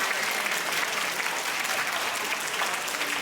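Parents at a children's school Christmas performance applaud with dense, steady clapping from a crowd, sustained and fairly loud throughout.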